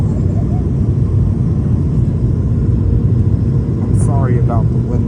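A JetBlue Airbus A220 airliner lands, heard from the cabin as a loud, steady, low engine and airframe rumble, with faint voices in the background.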